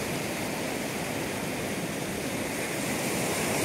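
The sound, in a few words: sea waves at Wayangani Beach, Ratnagiri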